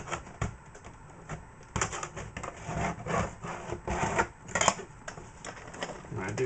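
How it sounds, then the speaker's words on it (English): Small hand tool scraping excess material from a plastic lane divider piece on an Aurora AFX Speed Steer slot car track, close, quiet rasping strokes in an irregular rhythm. "Get another little scrape."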